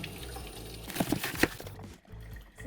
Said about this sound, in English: now if I rinse this off